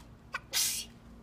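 A child sneezes once at home: a short intake of breath, then a sharp, hissing sneeze burst that trails off quickly in a quiet room.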